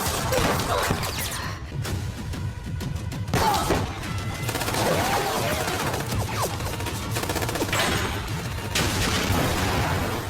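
Gunfire in a 2021 sniper war film: dense, continuous volleys of shots and crashing impacts with rumbling booms, loud and close throughout, with no talking.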